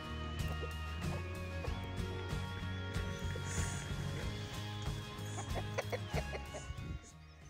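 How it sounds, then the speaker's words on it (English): Turkeys, including a two-year-old hen, clucking and chattering over a busy background of tonal sound, fairly continuous with overlapping calls. "So this is Uno, one of our hen turkeys that is 2 years old."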